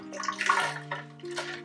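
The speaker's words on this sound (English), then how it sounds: "When ready to prepare dosa, drain out water." Soaking water drains off soaked dosa ingredients, heard as a close, gurgling trickle with a few bursts of splashing over a steady low hum, and no one speaks.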